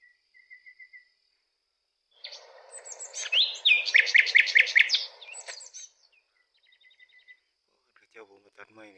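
Small birds chirp and twitter outdoors at an old bird-watching spot, with a brief busy burst of trilling calls in the middle, faint scattered tweets before and after, and a low insect-like buzz underneath.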